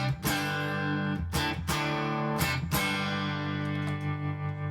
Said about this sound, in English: So the clean tone.